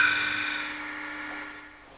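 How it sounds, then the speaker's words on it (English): A Robert Sorby multi tip tool shear scraping spinning wood on a lathe, its edge held at an angle, giving a steady close rasping rub that fades gradually over two seconds with no talk. "Shear scraping is created by holding the tool so that the cutting edge is presented to the work at an angle."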